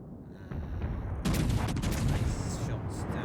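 Naval gun salvos in a gunnery duel in World of Warships Legends, the Nassau firing; a dense run of booming shots with rumbling battle noise and a voice speaking over it.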